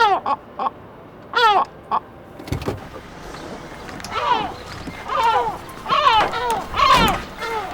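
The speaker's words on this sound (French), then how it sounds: "Les goélands sont tout à fait coopératifs cette fois. Un peu trop même. Le son risque de saturer." Gulls call loudly and repeatedly close by, several overlapping raucous cries building in density over the seconds, near a parked truck.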